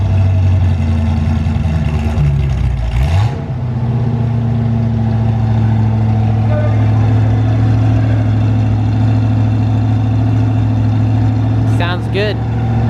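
A Ford Mustang engine, freshly repaired with a new single-wire distributor, plug wires, spark plug and carburetor, idles steadily and loudly up close, with a brief rev early on and a short squeal near the end.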